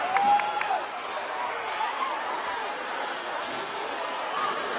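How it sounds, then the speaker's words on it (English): A loud, sustained crowd roar fills a basketball game gym after a tying shot with under a second left, dense cheering and shouting with a few sharp whistles near the start, steady throughout. "This crowd's going ballistic."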